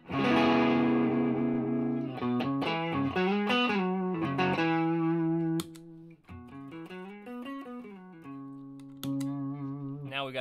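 Xotic XS-4 electric guitar played through a Blakemore Octidrive overdrive octave fuzz into a VOX AC-15 amp: thick, saturated fuzzy chords and sliding bends with sustained, gritty tone, close and loud, no talking.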